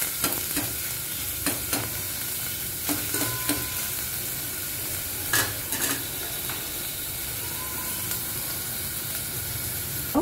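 Onion fries and sizzles in a pan, stirred with intermittent sharp scrapes and clacks of a spoon against the metal over a steady close hiss.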